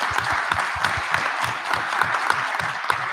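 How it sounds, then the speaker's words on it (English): An audience claps for the teachers at a hackathon event, a steady dense patter of many hands with sharper individual claps standing out, continuous and fairly loud for a few seconds. "give your teachers another round of applause"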